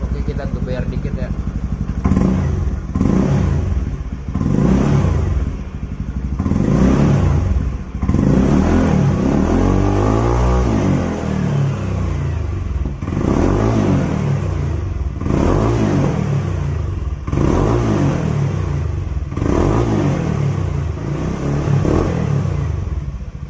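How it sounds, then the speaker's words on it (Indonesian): Close up, a Honda motorcycle with an aftermarket silencer exhaust is revved several times indoors, its deep engine note swelling and falling in repeated bursts, with someone talking over it. "Oke, kita geber dikit ya."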